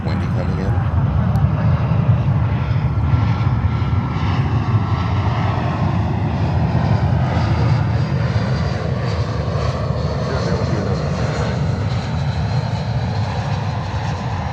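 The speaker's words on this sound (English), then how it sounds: "We see a JetBlue 320 coming in." A JetBlue Airbus A320 on approach to land at JFK, its steady jet engine roar filling the whole stretch at a constant loud level, with faint radio chatter beneath.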